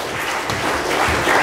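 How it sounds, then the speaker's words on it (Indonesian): Congregation applauding during a Christian sermon, a dense, steady wash of many hands clapping at even loudness throughout, with no voices over it. "Kasih tepuk tangan untuk Tuhan."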